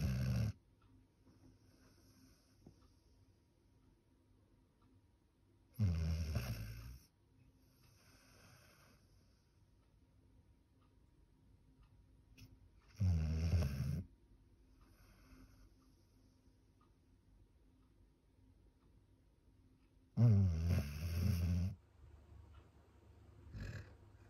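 A sleeping dog snores softly and close by, with four slow breathy rumbles spaced about seven seconds apart and near silence between them. There is no talking.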